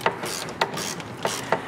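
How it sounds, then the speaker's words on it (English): An 8mm socket on a ratchet snugging down a hose clamp on a RAM 1500 5.7L V8 engine, giving a few quick close clicks in short bursts. "grab our 8mm socket, put it on the hose clamp, and tighten it down"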